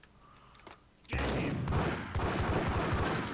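Dual Beretta pistols firing in the video game Max Payne: a few sharp isolated shots, then a sudden loud sustained burst of gunfire and impacts that continues to the end.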